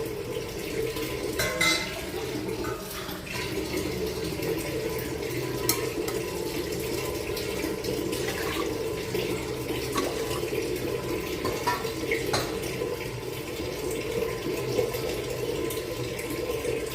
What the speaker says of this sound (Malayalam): നമുക്കൊരു 3 കപ്പ് വെള്ളം ഒഴിച്ചു കൊടുക്കാം അതിനകത്തോട്ട്